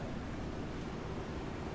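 Steady broadband rushing of a waterfall in Skyrim, a constant full-spectrum wash of falling water heard alone without talk, moderately loud and unbroken throughout.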